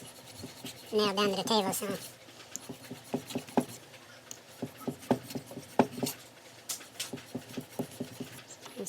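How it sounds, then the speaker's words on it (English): A metal file rasps in short, repeated strokes on the bridge of a Yamaha FG-180 Red Label acoustic guitar, steady scraping at close range, with someone talking briefly at the start. "So I'm working on it with a file now."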